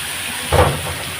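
Eggplant pieces hit hot oil in a pan for a rui fish curry, giving a short, loud sizzling burst that settles back into a faint, steady hiss.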